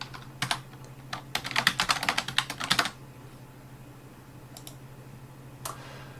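Computer keyboard keys clicking as a username and password are entered, a quick burst of close, crisp taps followed by a pause and a few scattered keystrokes over a faint steady hum.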